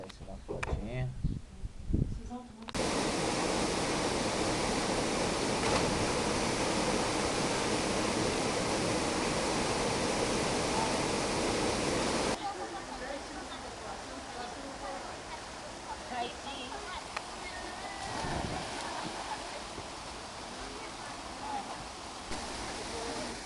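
The Véu de Noiva waterfall at São Thomé das Letras, Minas Gerais, gives off a loud, steady rushing roar for about ten seconds, then fades to a softer wash of water under voices.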